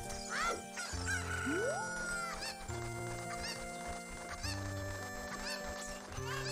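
Cuccos from Zelda: Ocarina of Time on the 3DS crow and cluck in quick, overlapping calls. Chiming game music plays steadily underneath throughout.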